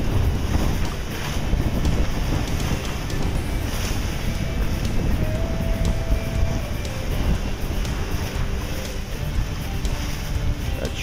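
Steady wind rushes across a sailboat under sail on a beam reach at about 15 knots apparent, with a constant roar of buffeting and water noise and no talk.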